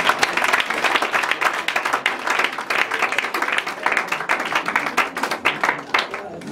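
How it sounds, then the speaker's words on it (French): A church congregation at a prophetic worship service bursts into sustained applause, dense rapid clapping from many hands filling the room, loud and continuous with voices mixed in. "On acclame le Seigneur, il est délivré."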